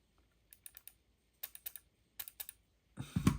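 Computer mouse on a desktop being clicked while editing a Microsoft Word document, giving several quick pairs of light, close clicks spaced across the moment, with a louder rustle near the end.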